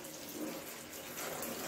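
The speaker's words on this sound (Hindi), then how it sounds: "इसको हम पानी से कर रहे हैं।" Running water rinsing a dusty old toy kitchen set, a steady close splashing and hissing stream like a tap flowing into a sink, continuous through the moment with no speech.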